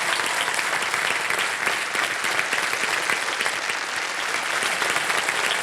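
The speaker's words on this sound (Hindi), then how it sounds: "तालियां बज जाए इनके लिए" A studio audience on the KBC quiz game show breaks into loud, dense applause after a contestant wins a prize cheque, sustained clapping throughout with no talk over it.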